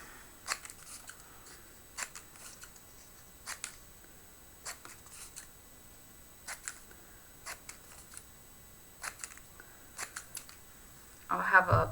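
Scissors snip paper for an art journal page in a dozen short, crisp, evenly spaced cuts close by, ending with a brief rustle of paper.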